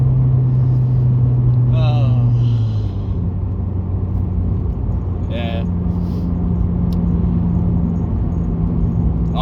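Small car with a 1.5-litre naturally aspirated engine accelerating hard, a loud steady engine drone from inside the cabin that shifts pitch as it pulls, with a brief spoken word over it.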